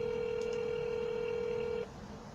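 A steady telephone tone plays while calling back during a cold-calling session, a single sustained pitch that cuts off abruptly, leaving quiet line noise behind.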